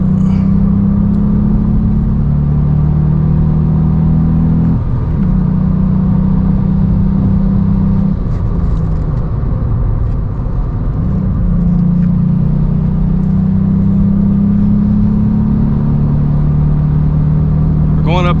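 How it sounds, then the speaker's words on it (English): VW Up GTI pulling strongly uphill, heard from inside the cabin as a loud steady engine drone and road rumble that shifts pitch as it climbs, with someone talking over it. "We're going uphill and it's pulling strong."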